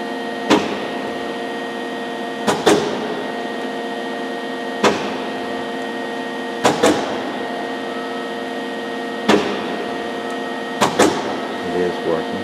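A Cincinnati Milacron 220-8 centerless grinder's electro-hydraulic infeed runs with a steady mechanical hum, broken by about eight sharp clunks and clicks at irregular intervals, close and fairly loud.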